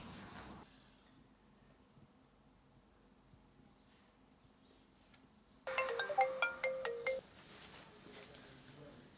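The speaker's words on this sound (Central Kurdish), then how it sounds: "هۆشک بۆ مەسەلەکە تەلەفۆنم کردووە" A telephone rings with an incoming call in a quiet indoor room, a short run of bright, repeating melodic ringtone notes that starts suddenly, sounds loud and close for about a second and a half, then stops.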